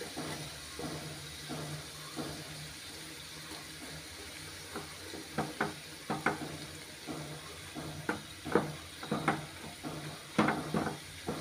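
Jaggery melting in a pan while being stirred, with soft intermittent scraping and bubbling bursts over a quiet steady hiss, growing busier toward the end.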